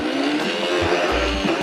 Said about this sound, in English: We're just gonna pop all this in the blender.